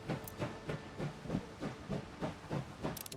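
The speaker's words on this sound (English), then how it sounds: "And we're going to move the damn train on a bit further." A steam train chuffs along steadily in the video game Last Train Home, with regular rhythmic puffs of hissing steam at a moderate pace and a brief high whistle-like burst at the end, faint and without voices.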